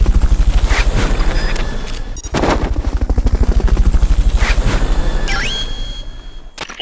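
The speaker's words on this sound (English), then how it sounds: "Fulton recovery to helicopter is complete." In-game helicopter rotor chopping during a Fulton recovery in Metal Gear Solid: Peace Walker, a loud, fast, regular thumping pulse with a brief burst near the middle and a rising whoosh toward the end.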